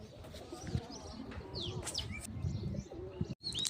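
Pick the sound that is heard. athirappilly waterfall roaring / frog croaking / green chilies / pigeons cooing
pigeons cooing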